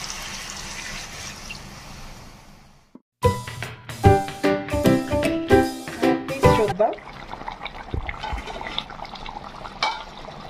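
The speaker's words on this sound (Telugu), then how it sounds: "కొద్దిగా వాటర్ యాడ్ చేసుకుందాం" Water pours into a crab masala curry in a steady hiss for a few seconds, then stops and a person talks briefly over faint bubbling.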